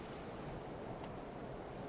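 Ocean waves in the Stormworks game wash and roar in a steady, dense surge heard from aboard a ship, with wind noise blended in and no voices.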